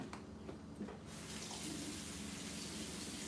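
A water tap runs steadily to wet a paint brush during a DIY craft session, a continuous close splashing flow that starts after a second of quieter handling and holds on evenly with no talking.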